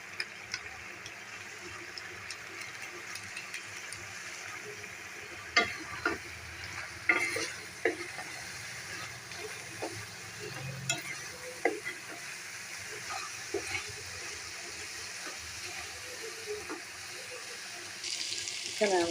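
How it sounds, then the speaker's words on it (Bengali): Spice masala and chicken pieces for biryani sizzle and fry in a pan, with frequent scraping stir strokes and clinks of a spoon throughout, close and steady. "এদিকে আমার মশলাটা কষানো হয়ে গিয়েছে, মাংসটা দিয়েছে।"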